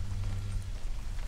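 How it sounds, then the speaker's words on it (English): Rain falls outside in the video game 103, a steady soft patter over a low rumbling hum, continuous and fairly quiet with no voices. "It seems to be raining outside."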